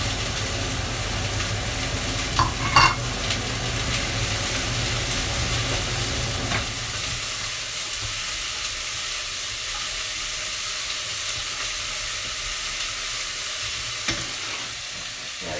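Chopped carrots for a Tuscan cabbage and bean soup sizzling in a very hot pan, a loud continuous hiss with occasional stirring clatter, easing slightly after about seven seconds.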